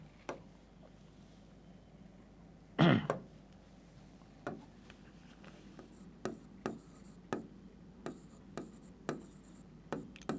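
Pen strokes on paper as a C function is written out by hand, soft scratchy marks repeating in a loose rhythm after one louder rustle or bump, close and quiet with no talking.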